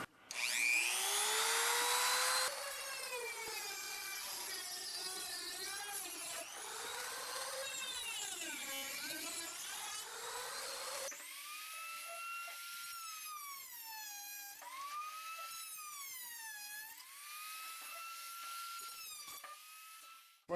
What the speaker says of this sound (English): I'm just going to take my Dremel tool with a abrasive cutting bit, and I'm just going to cut along those lines